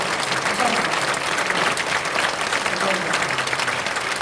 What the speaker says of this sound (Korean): 큰 박수 축하해 주시기 바랍니다